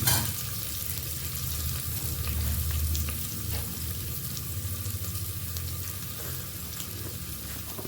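Onions and mushrooms fry in a pan with a steady, dense sizzle that stays even and close throughout, with no talking over it.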